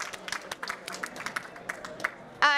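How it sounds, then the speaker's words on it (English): An audience at a sustainable food panel event claps in scattered, fairly quiet bursts, with a voice starting up right at the end. "Let's give that a round of applause."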